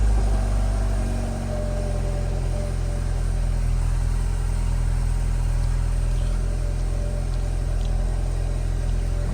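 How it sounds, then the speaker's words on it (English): A Mini Cooper engine idling steadily after being started following an oil pressure control valve repair, a constant low mechanical hum with no revving, heard alone throughout. "So just gonna let the engine tick over for"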